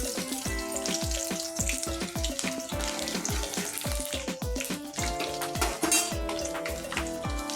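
Curry leaves and coarsely crushed garlic hit hot oil with a loud, steady crackling sizzle, punctuated by repeated sharp pops and spatters throughout, no voices over it.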